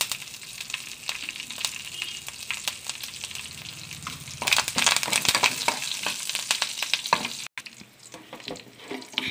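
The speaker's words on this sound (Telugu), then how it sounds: "చివరగా మనం ఇందులో కరివేపాకును కూడా మనం వేసుకొని దాన్ని కూడా మనం వేగనిచ్చుకుందాం" Curry leaves sizzle loudly as they hit hot tempering oil for a cabbage and chana dal curry, with a steady crackling fry, a sharper burst of spluttering midway, and occasional stirring scrapes.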